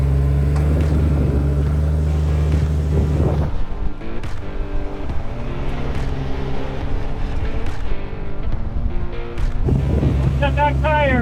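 An off-road vehicle's engine labors loudly as it reverses out of a stuck spot during a recovery, a steady rumbling drone with wind buffeting the microphone and people talking over it.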